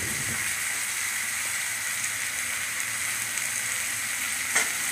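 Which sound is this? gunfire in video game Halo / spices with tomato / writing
spices with tomato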